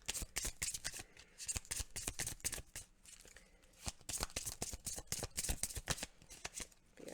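Oracle cards being shuffled up close in a quiet room, a rapid run of crisp riffling and flicking bursts that continues steadily with no voice.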